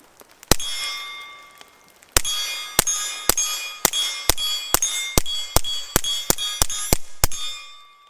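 Series of sharp, metallic cracks from a suppressed Taurus TX22 Competition firing CCI Quiet semi-auto rounds, one early shot followed by a pause, then a quick string of about fifteen shots with ringing tails.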